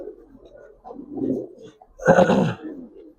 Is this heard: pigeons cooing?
yes